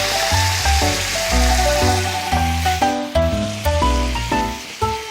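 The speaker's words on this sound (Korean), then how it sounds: "이 상태에서 좀 전에 준비해놨던 양념장을 섞어서 부어주세요." Seasoning sauce poured into a hot frying pan for stir-fried anchovies sizzles loudly and steadily, crackling over background music with clear notes throughout.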